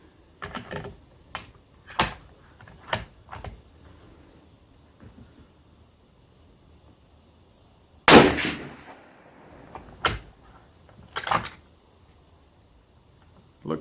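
A shortened .300 Win Mag rifle fires one sharp, loud report midway, surrounded by scattered metallic clicks and clunks of handling and the bolt, with quiet gaps between.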